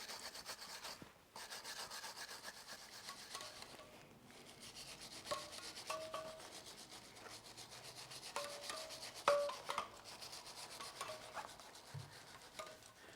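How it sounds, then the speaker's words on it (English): Surface rust is scrubbed off the outer side plates of a rusty motorcycle chain, steady rasping strokes that run on and off with brief pauses, close but fairly quiet, no voices. "I'll just work my way around the chain on this side, then I'll have a go at the other side"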